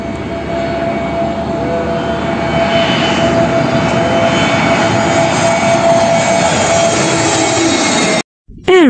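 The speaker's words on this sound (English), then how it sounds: "Aeroplane. Landing." A fixed-wing aeroplane comes in to land, its jet engines producing a loud, steady roar with a rising whine that holds for several seconds before cutting off abruptly.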